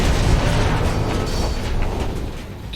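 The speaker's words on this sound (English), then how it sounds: "Firing a high-impact shot!" A high-impact pistol shot fired in the video game Mass Effect 2 lands as a loud, sustained booming burst with a heavy low-end rumble that fills the whole moment and trails off slightly toward the end.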